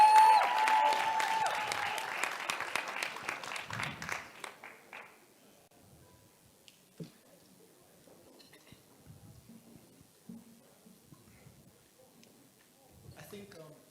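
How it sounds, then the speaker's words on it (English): A round of applause from the audience at a creative-industries networking event, loud dense clapping for the first few seconds that tapers off, followed by quieter room murmur with scattered small clinks. "Round of applause."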